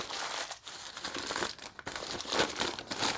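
Newspaper and advertising paper crumpled by hand for texturing spray paint art, giving a steady, close crinkling and crackling with short bursts and brief pauses, no talk over it.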